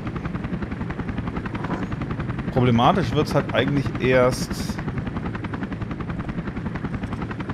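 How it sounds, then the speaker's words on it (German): A helicopter in the video game 007 Agent im Kreuzfeuer, its rotor whirring steadily throughout while bursts of gunfire crackle in the middle, and someone talks over it. "Und versuchen wir den Helikopter einfach nochmal niederzuschießen."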